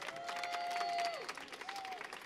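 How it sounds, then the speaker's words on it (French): A crowd in Tarbes applauds at a live outdoor radio showcase with Boulevard des Airs, steady clapping with a whistling tone rising above it partway through. "qu'on peut applaudir le public de Tarbes"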